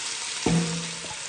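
Vegetables for an Italian spezzatino stew drop into a hot pot and hiss briefly, with a short scrape as they are stirred, close and moderately loud over a steady sizzle.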